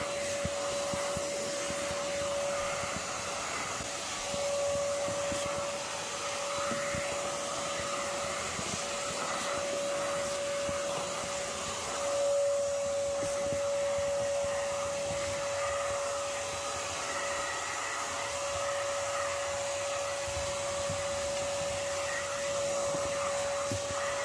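A vacuum sucks up yellow jackets during removal of a large wasp nest, running continuously with a loud, steady whine and airy rush, faint scattered ticks under the drone and no voices.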